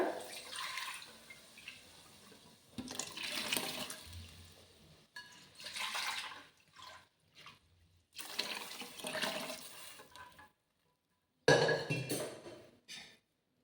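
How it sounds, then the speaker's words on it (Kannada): Water poured into a pot of kohlrabi and pigeon pea sambar, a broad splashing pour in several bursts with brief pauses, close and fairly loud, ending in a short sharper splash. "ಇವಾಗ ಎಷ್ಟು ಬೇಕಷ್ಟು ನೀರು ಹಾಕೊಳ್ರಿ"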